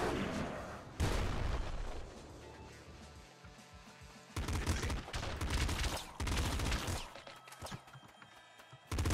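A pop gun fires in Nuclear Throne as repeated bursts of loud, punchy shots in clusters, separated by quieter gaps of game sound.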